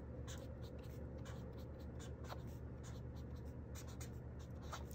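A pen scratches steadily across the paper of a bullet journal, with continuous soft strokes and small taps, close but quiet, and no voices.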